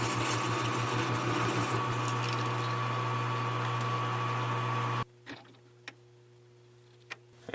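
A lathe parting off a steel washer gives a loud, steady grinding whir for about five seconds. The cut then stops, leaving a quiet motor hum with a few faint clicks.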